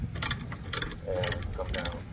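A car jack under a Mercedes GLS 450 is cranked down during a tire change, giving a repeating ratcheting click in quick, regular bursts, close and moderately loud.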